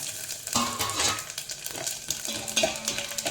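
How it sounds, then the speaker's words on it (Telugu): Dry chillies, mustard seeds, cumin and dals fry for a tempering in a hot brass pan, a close sizzle with crackling pops and stirring scrapes, steady and alone. "సిమ్లో పెట్టి వేయించుకుందామండి"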